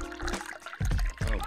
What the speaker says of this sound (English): pour the green tea just right